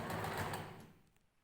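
A sewing machine runs a continuous stitching whir while sewing a long dress, steady and fairly close for most of the moment before slowing and fading out near the end.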